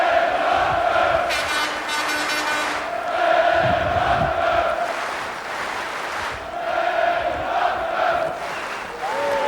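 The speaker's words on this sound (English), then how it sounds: "Crowd characteristic of a German crowd with a German champion will cheer at anything done by their fighter" A German boxing crowd roars and cheers for its home champion at a title fight, a steady, loud wall of voices that swells in waves, with an announcer talking over the noise.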